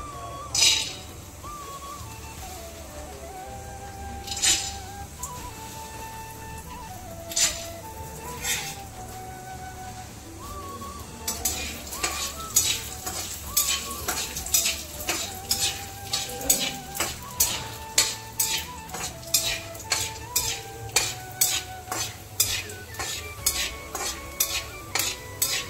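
Peanuts fry in hot oil with a low crackle while a spoon scrapes and stirs, the strokes growing quick and rhythmic in the second half, over faint melodic music.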